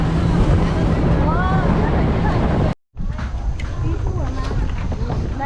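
A speedboat speeds over choppy sea waves, with loud engine roar, hull slapping and heavy wind buffeting the microphone, briefly cutting out for a moment before the rush resumes; a voice speaks over it.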